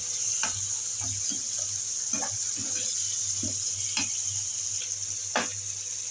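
Liver and gizzards sautéing with softened onion in a pan, a steady sizzle under scattered clinks and stirring scrapes, close and moderate.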